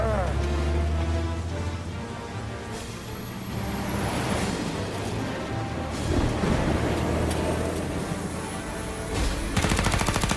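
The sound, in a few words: gunfire in the video game Mafia: Definitive Edition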